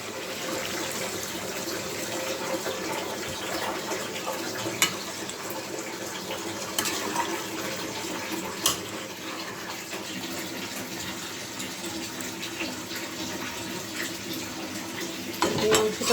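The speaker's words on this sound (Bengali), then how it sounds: "এখন আমি জল দিয়ে দিব।" Water poured into a pot of browned meat curry, a steady rushing pour with occasional clinks of utensils against the pot, close and continuous.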